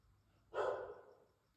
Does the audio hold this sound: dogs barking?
yes